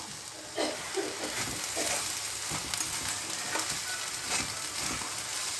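Broken rice (khud) sizzles steadily in a pan while a spatula stirs and scrapes it in irregular strokes, close by and fairly quiet, with no talking.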